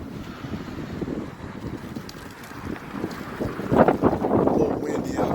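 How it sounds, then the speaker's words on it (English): Gusty outdoor wind buffets the microphone with a steady low rumble that swells louder toward the end, no clear talk over it. "A little windy out here"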